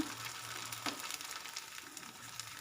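Sandige rice crisps fry in hot oil with a soft, steady sizzle, scattered with small crackles and pops. The sound stays fairly quiet and close throughout, with no voices.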